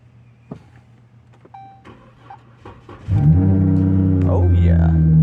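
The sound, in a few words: Dodge Charger V6 with exhaust cold starting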